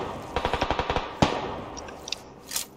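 Rapid automatic gunfire in the battle-royale video game PUBG Lite rattles off in a quick burst of about ten shots, followed by a single louder crack and a few faint distant pops.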